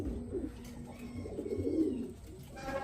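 Racing pigeons at a loft during a club race, giving soft, low, throaty cooing that rises and falls close by, with faint rustling behind.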